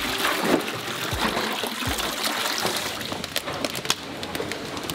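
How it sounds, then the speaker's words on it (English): Water trickles and splashes as workers in Madagascar wash vanilla beans by hand to remove impurities, a steady close dribble broken by small sloshes and brief knocks. "they wash each bean to remove any impurities"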